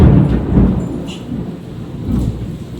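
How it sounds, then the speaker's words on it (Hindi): Heavy rain hisses steadily while low thunder rumbles rolling in the background, loud and close. "बारिश शुरू हो चुके हैं"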